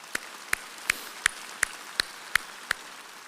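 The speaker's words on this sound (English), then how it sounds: "Let's give them another round of applause." Slow, evenly spaced claps ring out at a spring college commencement ceremony, about eight sharp strikes in a steady beat over a faint background hush.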